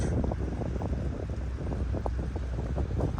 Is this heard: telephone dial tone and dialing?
no